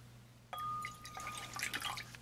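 Vinegar and red cabbage indicator solution being poured into a container: a quiet splash starts about half a second in, followed by soft trickling and dripping liquid sounds over a low steady hum.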